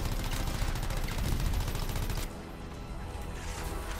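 Gunfire in the video game Anthem, a dense, loud automatic stream of shots that cuts off abruptly partway through, leaving quieter rumbling game noise.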